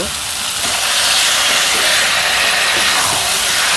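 Chicken meat hits a hot pan and fries with a loud, dense, continuous sizzle and hiss that stays steady throughout.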